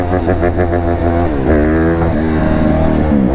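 A 125 dirt bike engine revving loudly and close, with quick rising and falling throttle blips before a sustained higher-pitched rev and a rough idle, heard alone without talk.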